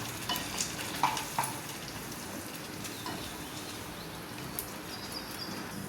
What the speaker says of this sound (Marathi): थोडंसं पाणी टाकते, म्हणजे 10 मिनिटं उकळी येऊ देते त्याला